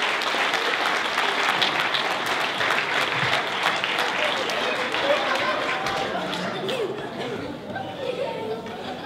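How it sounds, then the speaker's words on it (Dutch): Audience applause at a local Almelo event, a dense, steady clatter of clapping that fills the whole stretch, with some crowd chatter mixed in and fading slightly toward the end. "Mag daar even een heel hartelijk applaus voor?"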